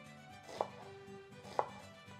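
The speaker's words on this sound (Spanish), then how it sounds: "voy a empezar picando la cebolla" An onion is chopped with a knife on a cutting board for a homemade salsa, giving two sharp, separate knocks about a second apart, close and clear with quiet background between.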